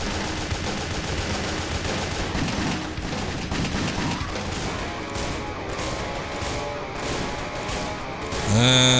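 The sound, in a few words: shotgun firing in video game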